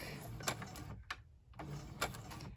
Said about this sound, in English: I'm gonna press on my foot pedal and just get a little bit of a stitch here. And then I'm gonna go forward and then back.